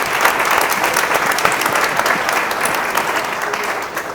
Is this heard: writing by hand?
no